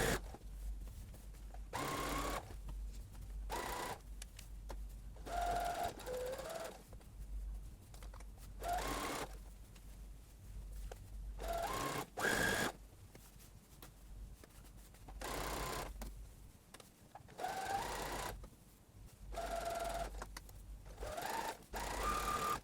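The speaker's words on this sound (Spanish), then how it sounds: "estoy cosiendo el forro con el margen de costura. Eso es lo que estoy uniendo con esta sobrecostura" A sewing machine topstitches a dress lining to the seam allowance in repeated bursts of fast, even mechanical whirring, each separated by short pauses. The sound is close and steady, and no one speaks.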